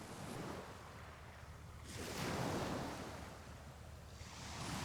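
Ocean waves break and wash onto the shore in a slow rolling rhythm, a broad hiss swelling roughly every two seconds with steady low rumble and some wind, no voices.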